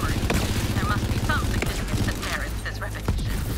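A gun fires in Borderlands 3 as a rapid run of sharp shots and bursts. It plays close and steady under a voice talking over the action.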